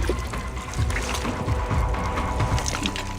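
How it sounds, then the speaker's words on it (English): Steady rushing and gurgling of incoming tidal water flowing close by in Madagascar, a continuous churning wash with small splashes and no voices. "This is a solid flow of water coming in as the tide comes in."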